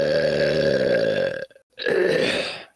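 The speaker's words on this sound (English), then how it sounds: "that belch was a 10 out of 10" A long, loud, close belch with a deep croaky tone, held for well over a second, then a short pause and a second rougher belch trailing off, with no talking.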